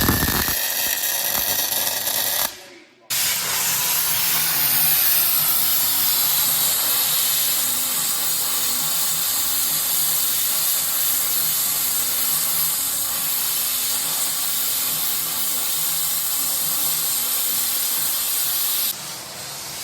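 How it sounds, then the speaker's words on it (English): A small handheld battery paint sprayer hisses in a continuous loud spray for nearly twenty seconds, with one brief pause near the start, close by and with no talking. "That is like the world's best little paint sprayer."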